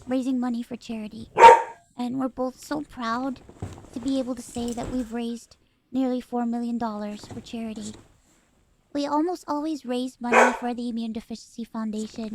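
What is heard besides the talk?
dog barking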